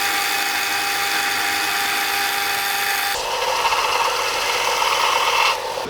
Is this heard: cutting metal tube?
yes